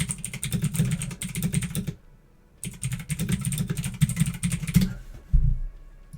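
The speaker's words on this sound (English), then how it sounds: "Oh, I was typing, sorry." Rapid keyboard typing clatters in two busy bursts, broken by a short pause near the middle, with a low hum running underneath; the keystrokes sound close and fairly loud, and no one speaks.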